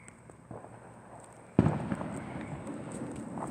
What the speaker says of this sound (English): You can hear them for miles.